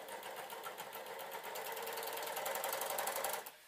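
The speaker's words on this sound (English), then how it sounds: "That's why I'm doing it all on the overlocker" An overlocker sews a denim skirt in one continuous fast, buzzing run that cuts off abruptly just before the end.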